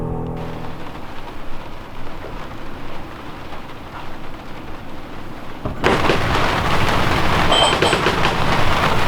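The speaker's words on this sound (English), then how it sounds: "It is raining this morning" Steady rain hisses throughout, growing noticeably louder and denser partway through as a heavier downpour sets in, with no voices.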